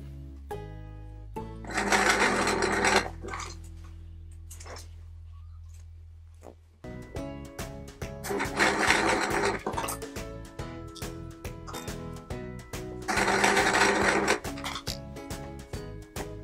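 A sewing machine stitches fabric squares for a patchwork quilt in three loud bursts of rapid mechanical whirring, separated by quieter handling of the fabric and a low hum.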